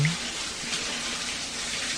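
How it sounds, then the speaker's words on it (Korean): Steady hiss of a shower running behind a closed bathroom door in a mobile horror game, an even, continuous wash of water at moderate level with no talking. "자, 안에서 샤워하시는 것 같죠?"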